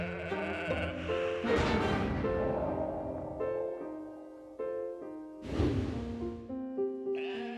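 Sheep bleat in a series of loud, wavering, harmonic calls, several overlapping voices rising and falling near the listener, with no talk.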